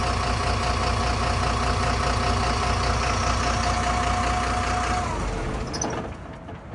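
A city or regional bus engine idles with a steady, loud diesel rumble close by, then is switched off near the end and the sound dies away.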